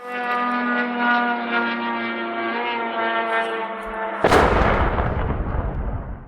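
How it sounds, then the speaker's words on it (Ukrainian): A steady low droning hum of a Shahed attack drone holds for about four seconds, then a sudden loud explosive blast as it strikes houses, followed by rumbling noise. "Кореспондентам Суспільного вдалося зафіксувати на відео моменти трьох прильотів."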